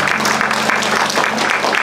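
A church congregation at a worship gathering claps together in a brief, dense burst of applause, close and fairly loud, with a faint murmur beneath.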